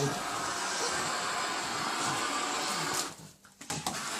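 A Thomas Vaporo vacuum cleaner runs with a loud, steady broadband roar for about three seconds, then drops away into brief clattering and bumps before the motor noise returns.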